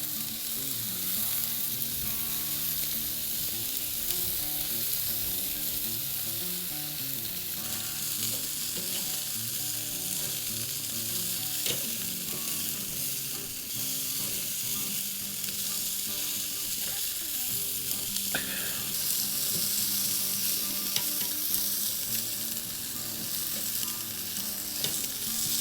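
Peri peri chicken drumsticks sear on a barbecue grill, a constant close hiss and crackle of sizzling fat with scattered pops.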